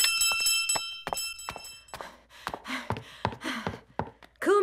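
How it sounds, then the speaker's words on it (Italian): A doorbell in the cartoon Ben and Holly rings with a bright chiming melody of repeated tones at the start, followed by footsteps and short sounds. "Come al solito, suonano il campanello"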